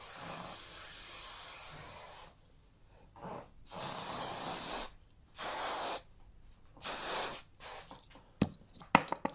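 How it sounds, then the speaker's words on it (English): Hairspray mists over freshly curled hair in a series of close, crisp hissing bursts, first a long spray, then several shorter puffs separated by quiet pauses, ending in a few quick clicks. "So we'll give everything one last spray."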